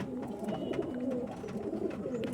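Chatiyal pigeons brought from Chennai coo softly and continuously in a low, throaty murmur, close by and unaccompanied by talk.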